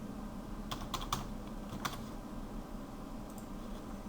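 Keystrokes on a computer keyboard as a password is entered: a quick cluster of soft clicks, then a single tap and a couple of faint ones later, all close over a steady low room hum.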